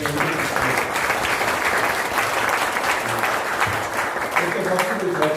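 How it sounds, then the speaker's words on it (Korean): Sustained, loud applause from a ceremony audience at a completion and appointment ceremony in a university memorial hall, steady clapping throughout with a few voices mixed in. "우리 한번 힘찬 박수로"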